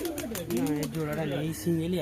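Old-line Giribaz pigeons coo softly nearby in a series of low, wavering, throaty calls that rise and fall over a couple of seconds, with faint voices murmuring in the background.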